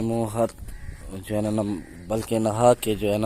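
Sheep and lambs resting nearby give several wavering bleats that come in short bursts, mixed in under someone talking close by.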